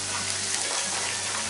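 Garlic frying with onions in a pan for mutton kheema, a steady close sizzle and crackle of hot oil throughout this brief moment.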